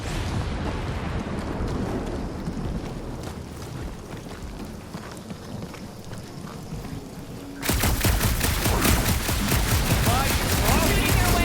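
Sustained video game gunfire in Guardians of the Galaxy, a dense, continuous rattle of shots and blasts that grows louder and harsher partway through, with speech over the din.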